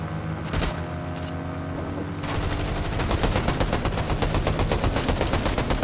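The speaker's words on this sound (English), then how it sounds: "We're getting shot at." Rapid bursts of gunfire crackle through a video game shootout, sparse shots at first giving way to dense, sustained automatic fire over a low engine-like rumble, loud and close throughout.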